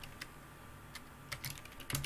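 Sparse, faint computer keyboard typing while setting up a Chainlink testnet node, a few scattered soft key taps with a short quick burst near the end, heard alone.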